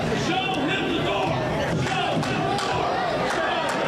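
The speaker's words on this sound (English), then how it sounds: "Crowd starting to chant, "Show him the door."" Wrestling show crowd chanting in unison, loud rhythmic group voices filling the venue with a steady roar beneath the chant.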